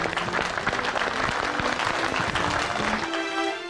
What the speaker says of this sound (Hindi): हम तालियां बजा रहे हैं,